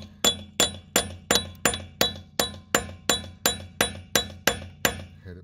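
A hammer taps a bolt extractor onto a lug lock nut on a car or truck wheel: about fourteen evenly spaced, ringing metallic strikes at a steady rhythm, close and clear.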